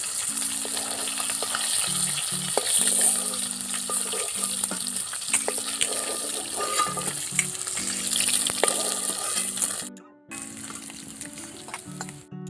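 Fish pieces fry steadily in hot oil with a continuous close-up sizzle, a brief dip near the end before the frying resumes; a background tone comes and goes underneath.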